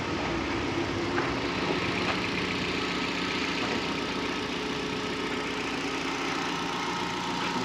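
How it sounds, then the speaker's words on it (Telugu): A Hyundai i10 car engine idles steadily, a constant low mechanical hum with no change in pitch throughout, running in a workshop while being checked for an overheating fault. "వెహికల్ అయితే స్టార్ట్లో ఉంది."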